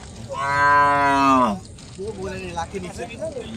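A cow at a rural cattle market in Singra, Natore, gives one loud, close, drawn-out moo lasting over a second, followed by people talking.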